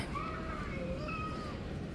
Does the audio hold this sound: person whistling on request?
no